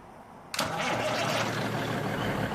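Kenworth T680 day cab truck with a 444-horsepower Cummins engine starting in American Truck Simulator: a short cranking click, then the diesel catching abruptly and settling into a loud, steady rumbling idle.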